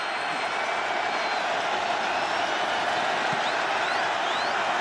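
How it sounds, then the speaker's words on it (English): A packed football stadium crowd at an NFL wildcard playoff game, Denver Broncos against Buffalo Bills, roars in a dense, sustained wash of noise that holds steady throughout, with faint whistles and shouts inside it. "the crowd getting whipped into a frenzy now"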